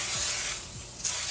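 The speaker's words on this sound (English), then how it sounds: "So I'm gonna spray it directly on." Pam cooking spray hisses onto spaghetti squash in a brief, steady spritz, close and alone, with a slight break near the middle.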